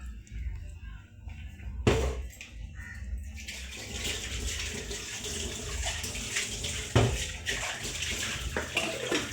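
Water pouring into a pot of Kerala fish curry, a continuous splashing gush running close and fairly loud with a couple of sharp clinks.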